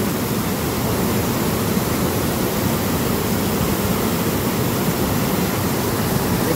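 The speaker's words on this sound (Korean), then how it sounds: "주황산 영주폭포예요. 멋있다. 소리 시원하고." Yongchu Falls in a rocky gorge at Juwangsan, Cheongsong, gives off a steady, dense roar of falling water, loud and unbroken from start to finish.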